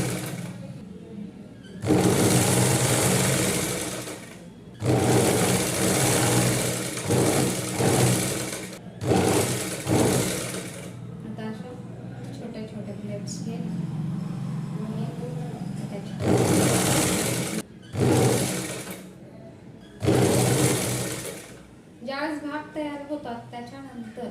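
An electric sewing machine stitching a nauvari saree, running in several loud whirring bursts of a few seconds each, with someone speaking during the pauses between runs.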